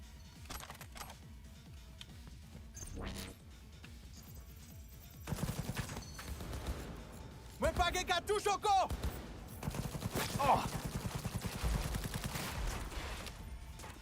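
Rapid gunfire from weapons in Cyberpunk 2077 Phantom Liberty, loud bursts of automatic shots around the middle with further shooting and game effects after, over steady background game sound.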